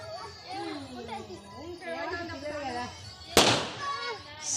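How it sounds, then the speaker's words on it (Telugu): Children chatter and shout at a Bathukamma festival evening, then a single sharp hand-thrown firecracker bang cracks out close by, followed by more voices. "ఈ అబ్బాయి చూడండి ఎట్లా టపాకాయలు చేత్తోటి వేస్తున్నారు"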